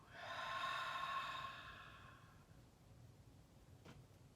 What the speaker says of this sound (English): take a deep breath in through your nose and hold and let it go